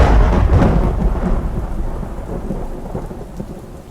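A loud thunderclap rumbles up close and then rolls away into a lower rumble, with rain falling steadily throughout a stormy night in the woods.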